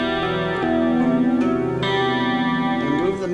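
A spooky metal riff on electric guitar through distortion and chorus effects, open strings picked in a short pattern with a few struck notes ringing out, close and sustained with no voice.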